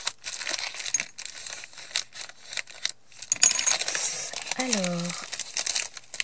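Paper crinkles and tears as an advent calendar gift is unwrapped, in close rustling bursts with short pauses, while someone speaks French briefly near the end.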